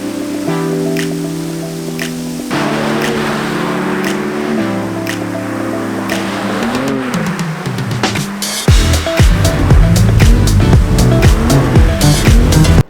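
BMW M3/M4 driving toward a drift session, heard from inside as a steady engine drone with shifting tones that surges into a louder, rougher roar near the end, with faint wet road noise.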